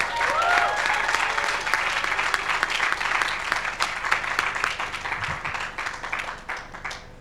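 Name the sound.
audience applause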